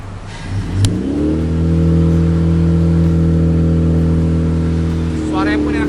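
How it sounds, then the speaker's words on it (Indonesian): A car engine with an aftermarket exhaust revs up from idle into a strong, deep drone with a throaty exhaust tone, holding steady before easing off. "Coba digas dikit."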